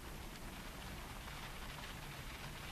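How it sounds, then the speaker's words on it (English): Rain falls steadily during a wet Christmas, a dense, even hiss of drops that is continuous and moderately faint, with no voices or other sounds. "It hasn't stopped raining for the whole of Christmas."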